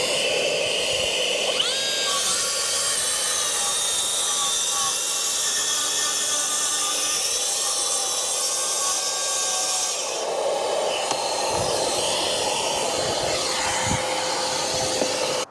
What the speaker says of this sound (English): all I'm going to do now is literally follow it with the plunge saw